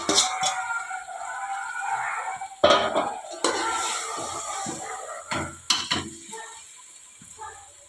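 Chicken cooking for biryani, stirred in a pot with clanks and scrapes of a utensil against metal, a faint sizzle between the knocks, close and without talk.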